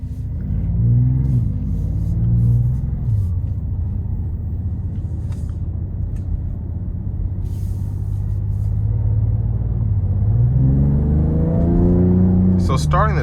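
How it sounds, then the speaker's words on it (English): A 2026 Dodge Charger Scat Pack Plus on the road, its deep engine rumble rising and falling with acceleration as it drives, heard from inside with a voice talking over it. "let's go ahead and take this 2026 Charger 6-Pack Plus out on the road for a test drive"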